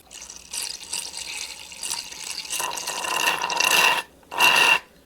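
Water pours out of a copper pipe while an outside tap is plumbed in, a steady splashing flow that builds, breaks off briefly, then gushes again, close by.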